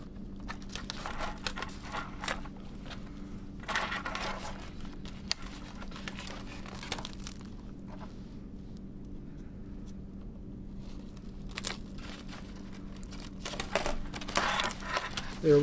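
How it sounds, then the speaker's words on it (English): Rustling while fitting elastic straps into place on a MultiBoard geology kit, scattered soft crinkles and scrapes in short bursts, close and quiet against a low steady hum. "Small bit of rustling to get them in place."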